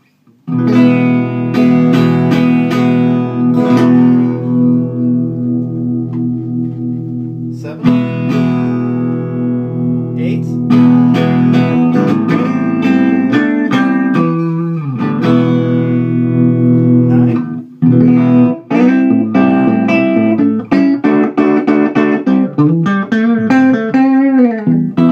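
A Fender Champ 5F1 tube guitar amp at volume 6.5, halfway up, with reduced B+ voltage and 11.2-watt plate dissipation, carries loud guitar chords and single notes that ring out with light breakup, strummed phrases separated by brief pauses.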